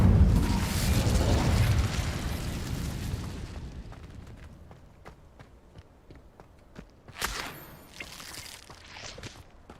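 Incendio fire spell from Hogwarts Legacy bursts in a loud, roaring blast of flame that rumbles for about two seconds, then dies into faint crackles, soft footsteps and a couple of brief flares.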